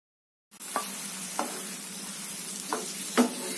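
Okra gravy masala powder fries in ghee and oil in a pan, giving a soft continuous sizzle. A few sharp clinks and scrapes of stirring stand out, with no voices.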